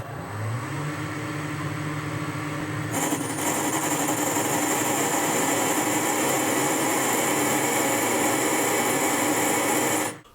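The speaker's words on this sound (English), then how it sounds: "I'll try a smaller drill to see whether that goes through." A power drill whines steadily, its tone rising as it bites into a steel grub screw on a Boxford lathe, then grinds continuously against the metal before stopping abruptly.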